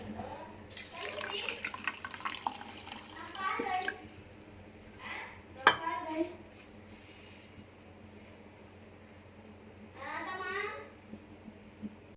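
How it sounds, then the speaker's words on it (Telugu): A cup of water is poured onto sugar for a syrup, giving a splashing, trickling pour over the first few seconds. Brief voices, including a child's, come through between quieter stretches and a short clink. "ఒక కప్పు నీళ్లు పోస్తున్నాం."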